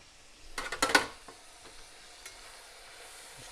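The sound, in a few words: stirring squirrel meat in hot grease in a pan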